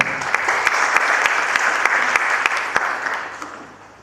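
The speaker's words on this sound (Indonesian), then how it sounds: "Berikan tepuk tangan bagi Allah kita." A church congregation breaks into applause, a dense steady patter of many hands with a few sharp claps standing out, fading toward the end.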